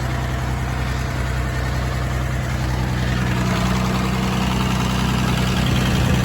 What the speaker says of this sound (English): I'm gonna shut the tractor off and see if that goes off.